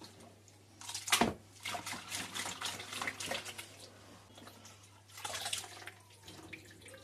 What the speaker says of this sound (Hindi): अब हम खुले बर्तन में 2 बार साग धो लेंगे।